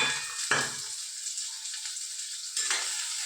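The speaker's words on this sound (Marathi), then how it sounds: "आणि लगेच आपण ह्याच्यामध्ये कांदा टाकायचा. हे व्यवस्थित आपण परतून घ्यायचे." Chopped onion hitting hot oil with cumin and mustard seeds, a loud bright hiss bursting at the start and again near the end, steady crackling frying in between, close up.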